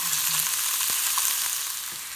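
Onion and ground beef frying in a pan, a steady bright sizzle with a few soft stirring scrapes, close and continuous, no voices.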